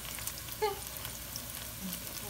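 Collard greens simmering in a pot on the stove, a soft steady sizzle and bubbling with a brief clink near the start, fairly quiet and without voices.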